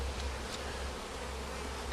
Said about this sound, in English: Now that is a bunch of bees.